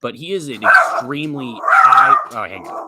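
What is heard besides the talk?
dog barking downstairs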